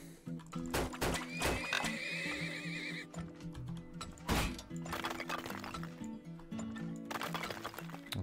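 A horse whinnies in the video game Turmoil, mixed with clip-clopping hooves, dull thunks and other game effects, all fairly loud and close.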